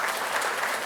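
A brief burst of audience applause during a university keynote address, dense and continuous clapping heard close up, with no voices standing out.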